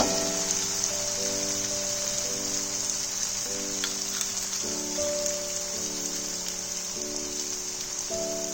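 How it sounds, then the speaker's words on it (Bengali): Cumin and coriander spice mix frying in a pan, a steady, loud crackling sizzle like rain on a surface, held throughout over a tonal background melody. "জিরে আর ধনেটাকে ভালো করে মশলার সাথে মিশিয়ে নেব আর ভালো করে এটা ফ্রাই করতে হবে।"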